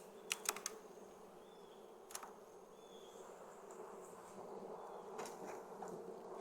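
Honey bees hum during a fall hive inspection as a faint, steady, low buzz, broken by a few sharp taps and clicks early on, heard from nearby in a quiet setting.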